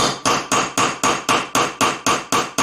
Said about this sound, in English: Now this is where that peening tool, or that rounding tool, comes into play. And you can peen these things and drive